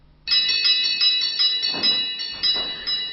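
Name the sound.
carillon bells ringing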